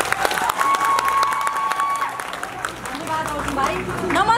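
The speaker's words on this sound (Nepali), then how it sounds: "सबले ताली बजाएर स्वागत गरिदिनु होला।" Crowd applause in a Butwal cinema hall welcoming a speaker before a film screening, dense clapping mixed with crowd murmur and a whistle, with voices talking over it toward the end.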